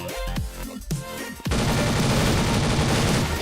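Gunfire erupts in Blood Strike, a dense sustained burst of rapid shots filling the second half at full loudness after a short stretch of mixed game sounds.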